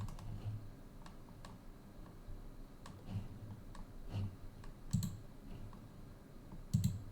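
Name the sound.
typing on computer keyboard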